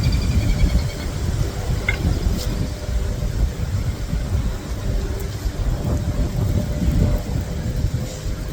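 Steady rain falls outdoors during work on pulling the motor from a custom mini jeep, a continuous dense patter with low rumbling underneath and no voices.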